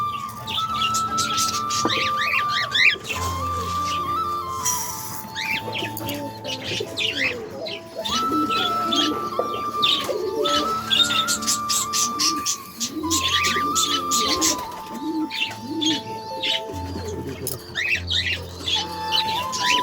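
Cockatiels chirp, squawk and call continuously as they gather close to be fed in the morning, a dense, lively flock chatter with steady background hum and no speech.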